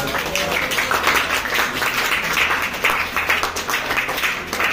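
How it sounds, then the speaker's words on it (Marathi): Students in a school class clap loudly together, a dense and fast burst of hand claps that continues without letup, close and bright, with a little voice mixed in. "पण तरी सुद्धा जोरदार टाळ्या वाजवा."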